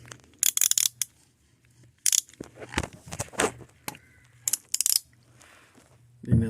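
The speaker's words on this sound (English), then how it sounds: "that is a drain plug, which I need the number 17 socket" A ratchet with a 17 mm socket loosens the oil drain plug on a 2008 BMW 528xi, giving bursts of close, sharp clicking and metallic rattles separated by brief pauses.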